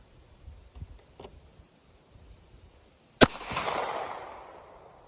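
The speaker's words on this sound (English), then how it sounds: "I'm going to see if I can make this gun malfunction." A single sharp, loud shot from a Kahr P380 pistol held loosely in the hand, with a short echoing tail; a few faint thuds come before it.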